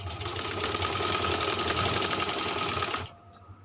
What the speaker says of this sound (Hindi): हमने एक सिलाई लगानी है इस तरह से।